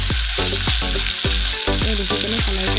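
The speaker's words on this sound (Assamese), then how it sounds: "আৰু এতিয়া গেছটো মিডিয়াম আৰু হাই ফ্লেমত দি ল'ব, যাতে মাংসখিনি ভালদৰে ভাজি লৈ এটা নিজৰ কালাৰ অহালৈকে ভাজি ল'ম" Chicken pieces fry in a pan over a medium-high gas flame, a loud, close sizzle broken by regular scraping stirs of a spatula, with no speech.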